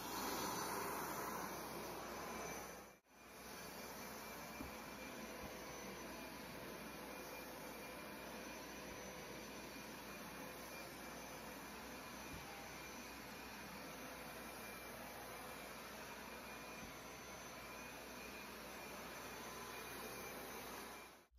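A Hoover SmartWash Pet Expert automatic upright carpet deep cleaner runs with a steady motor whine and suction roar. It cuts out briefly near the start, then hums on evenly and alone.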